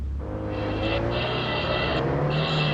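A car racing fast in a video game: a loud, steady engine drone with a rising high whine and strong low rumble, close and continuous, no talking.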